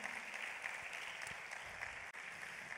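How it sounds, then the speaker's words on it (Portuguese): A church congregation applauds during a sermon, a steady, soft wash of many hands clapping together at a distance, continuous for a few seconds with one brief drop. "Quer aplaudir, aplauda"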